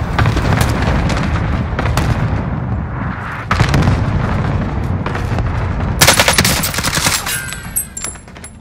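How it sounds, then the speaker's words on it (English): A Warzone cluster strike erupts in rapid, heavy explosions layered with bursts of machine-gun and rifle fire, loud and dense throughout, ending in a sharp crackling blast. "Cluster strike away."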